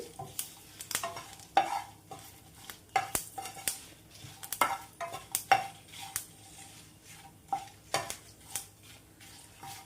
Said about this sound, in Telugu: కరివేపాకుతో కూడా కొంచెం వేపుకుందాం ఈ చెట్టుపట ఆగిపోయేదాకా వేపుకోవాలి